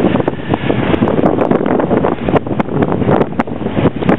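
Strong wind buffeting a sailboat under double-reefed main and furled jib, a loud roaring rush of gusts against the microphone with rustling flaps and water noise, steady and close, no voices.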